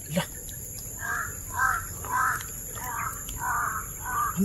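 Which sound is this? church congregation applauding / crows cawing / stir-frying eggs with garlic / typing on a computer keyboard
crows cawing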